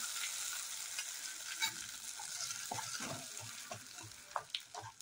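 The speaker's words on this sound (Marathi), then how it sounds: "आता या चटणीवर पूर्ण तडका घालून मिक्स करायचं आहे." Hot tempering poured over a chutney for rava idli and stirred in, giving a soft steady sizzle with scattered scraping clicks from mixing, fairly close and alone without talk.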